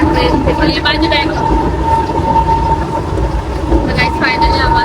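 A passenger train at a busy station platform near Panvel pulls in with a loud, steady rumble and a sustained high hum, and people talk over it throughout.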